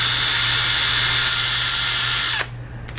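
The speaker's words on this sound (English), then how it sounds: "You don't have to use a drill, but that's going to give you some bite when you go ahead and epoxy them in." A power drill spins 120-grit sandpaper against support tubes for an R4 FE rigger model kit. It gives a steady high whine for a couple of seconds, then cuts off abruptly, close and alone.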